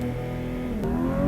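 A VAG car engine with an EDC-tuned ECU and launch control active, held at a steady, loud rev limit with a constant droning hum and no voices.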